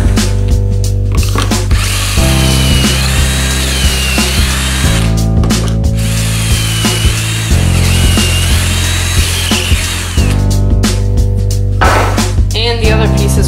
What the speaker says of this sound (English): Drop my piece in, center it, and I can drill these two holes.